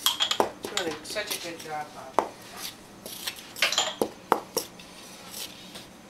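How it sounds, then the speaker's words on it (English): A spoon stirs and scrapes pumpkin muffin batter in a bowl, making a run of clinks and knocks against the sides, some sharp and close, while someone talks briefly. "Stir that all up"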